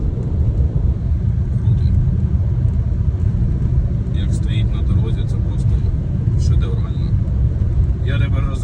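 A Fiat crossover cruising steadily at about 80 km/h on a snowy road, a constant loud cabin rumble of engine and tyres with a voice faintly over it.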